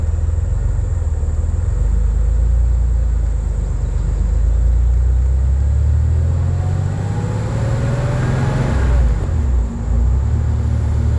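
A 1994 Porsche 964 911 Speedster engine revving from inside the car, a loud steady rumble that sweeps up in pitch and quickly drops back, heard without any talking.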